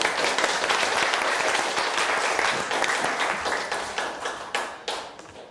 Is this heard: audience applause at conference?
yes